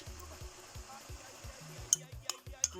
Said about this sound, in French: Après, je mélange le beurre avec la moutarde.